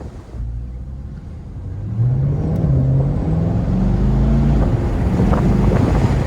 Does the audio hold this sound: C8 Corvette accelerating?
yes